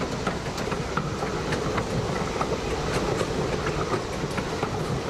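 A train rolling along railroad tracks, steady loud rumble with rhythmic clickety-clack of wheels over rail joints throughout.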